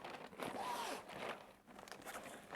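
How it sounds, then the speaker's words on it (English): A zipper is drawn open on a sports bag that doubles as a backpack, one quiet, close scratchy pull lasting a couple of seconds, with a brief rustle after it. "Open the zipper."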